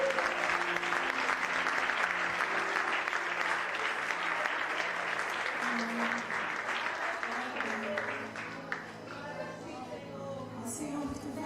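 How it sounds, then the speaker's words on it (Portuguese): Congregation in a church clapping during an evening worship service, a loud, dense applause that continues steadily and tapers near the end, with music or singing underneath. "Você pode aplaudir ao Senhor."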